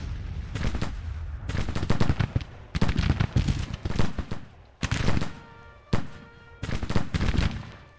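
Dense crackling volleys of musket fire and heavy artillery booms from a Civil War battle game roll in repeated loud bursts, separated by brief lulls.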